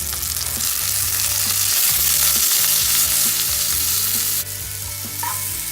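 Chicken sears in a hot pan, a loud, continuous sizzle of frying that holds steady throughout with a few faint clinks, no voices.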